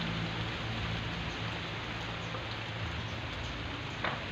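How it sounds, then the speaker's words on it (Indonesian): Steady light drizzle falls in front of a house on a cool afternoon, rain mixed with wind making a continuous even hiss with no talk over it. "Lho bolo cuacane udan"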